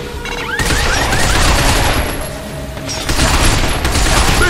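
Dense, loud gunfire rattles continuously in the video game Binary Domain as shots hit the legs of advancing robots, with sustained automatic bursts and booming impacts and no pause for the whole stretch.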